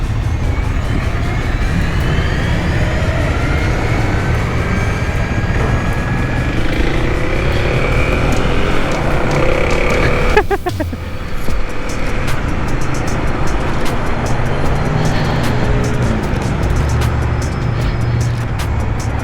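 Kawasaki KLX 300SM motorcycle engine droning steadily while riding, loud and continuous with wind rush and a brief dip midway as the throttle eases.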